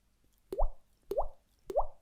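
Three evenly spaced liquid drip plops, each a short rising bloop, clear and close against silence.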